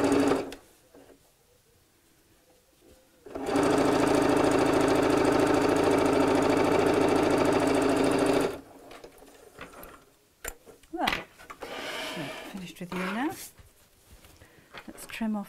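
Sewing machine running steadily for about five seconds as it top stitches across the folded seam of a fabric Christmas cone advent calendar, loud and continuous, with quieter handling noises before and after.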